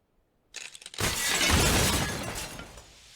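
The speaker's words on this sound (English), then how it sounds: "He cut that glass tabletop in half, just as if he were using a diamond." A glass tabletop breaks apart, opening with a few small clinks and then a sustained loud crash and shatter that rings and trails off over a couple of seconds.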